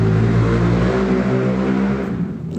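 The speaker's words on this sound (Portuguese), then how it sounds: "Eu odeio moto barulhenta." Loud, close engine drone of a noisy motorcycle passing on a street, with a strong low rumbling hum that fades slightly toward the end.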